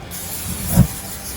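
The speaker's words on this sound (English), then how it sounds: "grill spray to keep these from sticking." A short, sharp hiss of an aerosol grill spray over a direct-fire Kamado Joe grill, one quick burst over a soft background.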